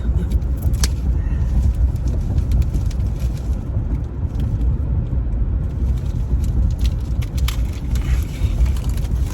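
Car driving, a steady low road rumble and engine drone heard from inside the cabin, with a few faint ticks and clicks and nobody speaking.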